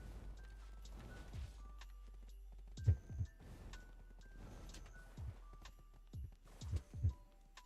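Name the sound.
horse hooves clip-clopping in a video game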